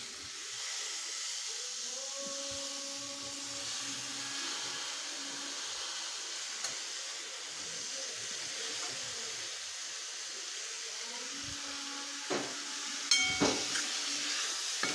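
Chopped potato and eggplant go into a hot pan, giving a steady, even hiss that holds for the whole stretch, with a faint low hum underneath and a few brief clatters near the end.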